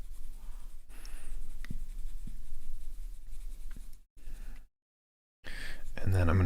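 White colored pencil rubbing across paper while shading a drawing of a 1973 Jaguar E-Type, a soft, steady, close scratchy stroking that pauses briefly near the middle before resuming.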